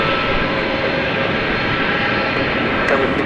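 An Airbus A300 jet airliner departs DFW Airport, its engines making a loud, steady broadband roar that holds without a break.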